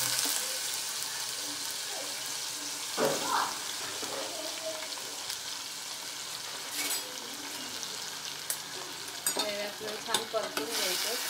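Mango pieces fry with cumin and turmeric in hot oil for a sweet and sour pickle, a continuous close sizzle broken by repeated scraping stirs and clinks of a spoon against the pan.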